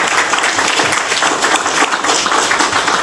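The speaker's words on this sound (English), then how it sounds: "Another round of applause." Loud, dense applause from an audience at a public meeting on potable water, many hands clapping continuously and close for about three seconds with no break.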